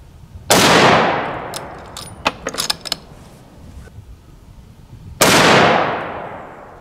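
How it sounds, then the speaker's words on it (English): Two loud, sharp rifle shots from a Ruger M77 chambered in .243, fired at close range several seconds apart, each ringing out and fading, with brief metallic bolt clatter in between. "just going to fire 3 shots with the 4064 load at that top middle target and just see what happens"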